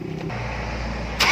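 The diesel engine of a Mitsubishi L300, just fitted with new injector nozzles, runs with a steady low, close rumble that rises into a louder burst near the end.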